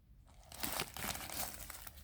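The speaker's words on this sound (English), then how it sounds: "I'm going to go ahead and unwrap it" Dooney & Bourke handbag being unwrapped from crinkly packaging, with a close, steady run of crumpling and rustling that swells after a quiet start and carries on to the end, no voices.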